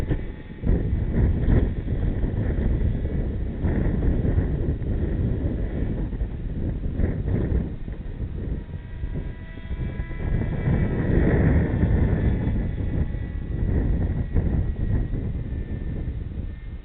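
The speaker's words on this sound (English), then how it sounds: "I think it's really too windy for this beast." Strong gusty wind, up to about 25 km/h, at an RC plane flying field roars continuously into the microphone, a loud buffeting rush that swells and eases in gusts without any talking.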